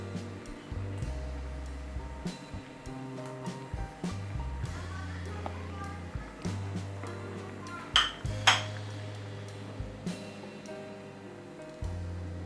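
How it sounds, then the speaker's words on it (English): Cooking utensils clink and scrape against a pan as paneer cubes go into palak, with scattered metallic taps and two sharper rings partway through, heard close and fairly quiet under low kitchen background hum. "we'll start adding the paneer"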